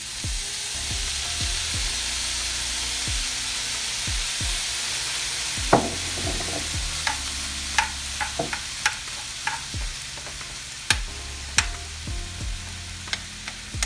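Chicken and rice with soy sauce stir-fry in a pot: a constant close sizzle under irregular sharp scrapes and clacks of the spoon against the metal, which grow more frequent in the second half.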